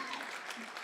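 Wedding guests clap together in a steady, dense round of applause, soft and somewhat distant, lasting under a second.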